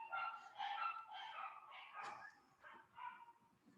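Several dogs bark, yip and whimper indoors in a series of short, close, fairly loud outbursts, ending in softer whines, with no talking.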